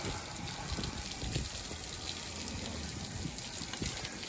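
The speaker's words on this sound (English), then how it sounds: "So we're gonna take quite some time here rinsing this" Water gushing steadily as it rinses chemical cleaner out of a microchannel air conditioning coil on a 30-ton commercial unit, a continuous broadband wash at close range with no speech.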